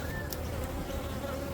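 Steady, dense hum of honey bees around an open hive during a December beehive inspection, a continuous close drone with a brief louder buzz as one flies past, with no talk.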